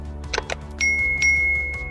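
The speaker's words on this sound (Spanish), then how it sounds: "activen la campana de notificaciones" A notification bell sound effect: two quick bright dings followed by a clear ringing tone that sustains, loud and close, with no voice.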